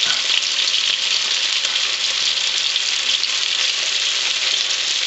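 Morel mushrooms fry in a hot pan with a steady, loud, unbroken sizzle that holds evenly throughout, with no voices.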